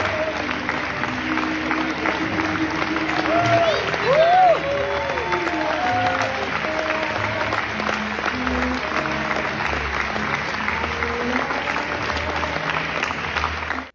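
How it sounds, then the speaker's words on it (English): Rousing standing ovation for the film Ferrari at the Venice Film Festival, with sustained dense applause and crowd noise throughout and faint cheering and voices mixed in. "Daniela Paperno and director Michael Mann as the crowd continued its rousing applause."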